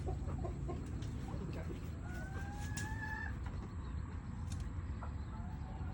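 Chickens cluck steadily amid a noisy outdoor background, with a brief higher crowing call rising out of the flock partway through.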